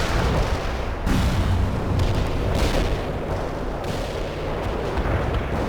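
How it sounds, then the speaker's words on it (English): Heavy artillery strike explosions in a video game, with repeated deep booms and rumbling blasts rolling one into another, loud and continuous with no voices over them. "Artillery strike is inbound."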